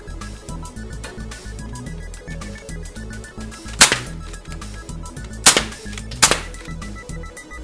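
A Nerf Cyber Stryke Gear Defender T3 plunger blaster fires a Mega Dart, giving sharp snapping pops at three separate moments over steady background music.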